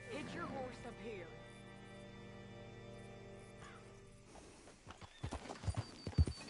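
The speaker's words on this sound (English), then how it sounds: "Hitch your horse up here." Horse hooves clip-clop in Red Dead Redemption 2 as the rider arrives at a hitching post, the uneven steps growing louder and sharper toward the end beneath a game music bed and talk.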